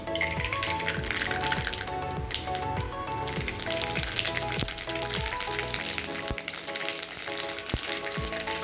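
Mustard seeds and urad dal frying in hot oil for kuzhi paniyaram, a steady close sizzle dense with sharp popping crackles and spitting throughout.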